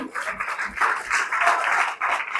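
Church congregation applauding during a sermon on the resurrection, a rolling, uneven wash of clapping that swells and dips over a couple of seconds, moderately close.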